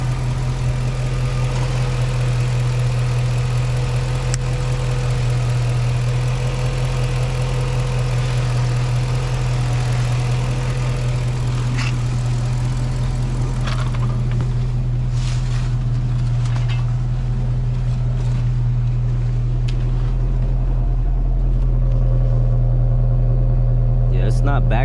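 A 2006 Dodge Charger with a misfire problem, after a crankshaft sensor swap, idles with a loud, steady low engine rumble and hum that continues unbroken throughout, with scattered faint clicks and knocks above it.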